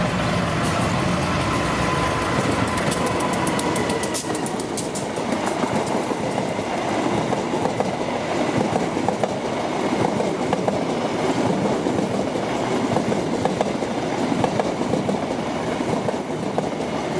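The KA Gumarang passenger train rolling past on rails at Bekasi Timur, a loud continuous rumble with rapid clickety-clack of wheels and engine drone filling the whole stretch, close and steady.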